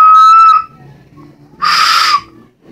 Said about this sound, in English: we got whistles